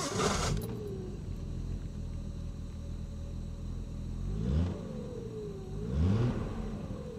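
A Triumph 2000 Mk2 with a 2-litre six-cylinder engine cranks and catches, then idles smoothly with two rising revs blipped near the end, close and steady with no voices.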